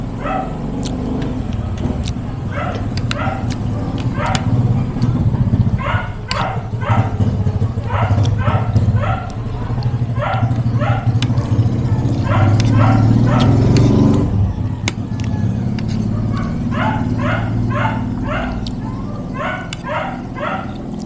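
A noisy dog barks in repeated bursts of sharp yips and barks, fairly close, over a constant low rumble of traffic and background hum, with a short pause in the middle.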